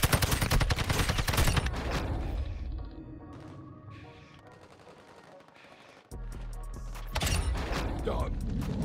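Bursts of rapid automatic gunfire in the mobile shooter Warzone Mobile, loud dense volleys at the start and again near the end with a quieter spell of distant shots and mechanical clatter between.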